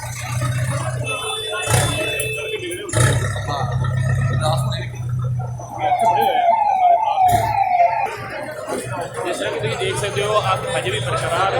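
A fire brigade vehicle's siren wails at a large building fire in Amritsar's Ranjit Avenue, rising and falling loudly in bursts beneath constant talking and crowd noise.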